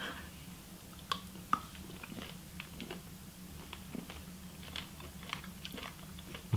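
Someone chewing American candy, soft crunchy bites and wet squishy chewing close to the mic over a low steady background hum, with no talking.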